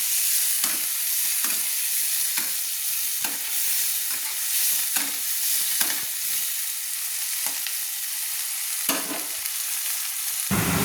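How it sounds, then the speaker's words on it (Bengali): Onions and salt frying in a pan until reddish brown, a loud continuous sizzle and crackle close up, with rhythmic stirring scrapes punctuating it every second or so. "লাল লাল করে ভেজে নিচ্ছি পেঁয়াজটাকে"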